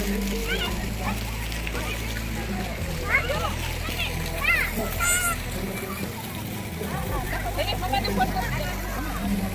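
Water from outdoor fountains at Atal Sarovar lake in Rajkot splashes and sprays as children play, with children's voices and chatter continuing throughout and occasional louder splashing bursts.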